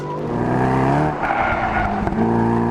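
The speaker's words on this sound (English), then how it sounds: "if you get it just right, you get a little bit of yaw angle, it lets you get away with it, and you can drift very nicely" A 2013 Mercedes-Benz SLS AMG GT sports car drifting, a loud steady engine drone with layered tonal harmonics and a rising tire-squeal whine, close and continuous without talk.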